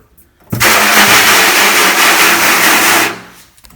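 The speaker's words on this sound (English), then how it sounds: "Now I'm going to take my water hose and hose it down on both sides" A water hose spraying down a screen printing screen, a loud, steady broadband rush that starts abruptly, holds for about two and a half seconds close by, then cuts off.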